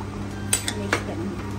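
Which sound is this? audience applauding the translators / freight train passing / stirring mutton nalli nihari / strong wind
stirring mutton nalli nihari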